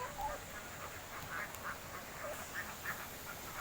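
Ducks quack in scattered short calls from a laying pen on a duck farm, faint and somewhat distant over a steady background hiss, with no one speaking.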